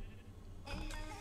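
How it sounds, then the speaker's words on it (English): Sheep bleating in the video game Minecraft, a short, soft bleat rising out of a steady low background hum in a brief moment of gameplay. "oh, this is a lot of sheep"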